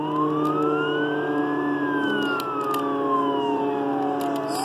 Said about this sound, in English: So there's someone's police car over there.